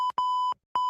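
Three loud electronic beeps at a steady pitch, each about a third of a second with brief silent gaps between, sounding alone with nothing underneath.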